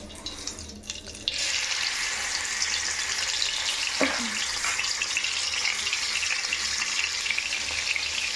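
Spiced paneer pieces hit a hot pan one by one, and a sudden steady, loud sizzle of frying starts and carries on without pause.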